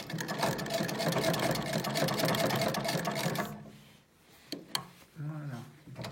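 An antique Singer treadle sewing machine stitches light fabric with a fast, even mechanical clatter for about three seconds, then stops, leaving a few faint knocks and handling sounds.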